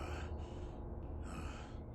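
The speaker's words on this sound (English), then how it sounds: "Hesitant and heavily breathing" Heavy, hesitant breathing from Batman in an audio drama as he nears a dark cave, with two or three drawn-out breaths heard close over a steady low rumble.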